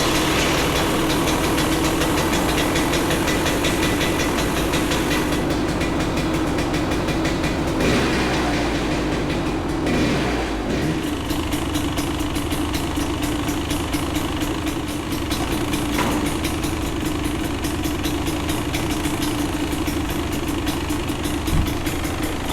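A Beta 300RR dirt bike engine idles steadily after being started, a loud, continuous, uneven two-stroke rumble that runs unbroken throughout, close up.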